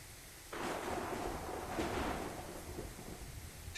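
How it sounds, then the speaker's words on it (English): Thunderstorm in an RPG Maker indie adventure game: after a quiet opening, a heavy thunder rumble rolls in and swells again midway, trailing into steady rain-like noise. "This storm isn't letting up."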